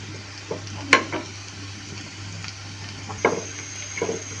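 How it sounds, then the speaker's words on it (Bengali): Pizza ingredients frying in a pan until lightly browned, a soft steady sizzle broken by a few sharp scrapes and clinks of stirring. "হালকা একটু লাল লাল করে ভেজে নিচ্ছি"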